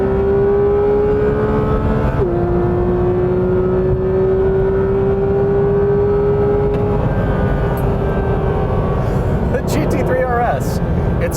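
Porsche GT3 RS on a track lap, a steady high engine whine with one upshift dip, heard from inside under constant wind and road noise, with a voice speaking over it.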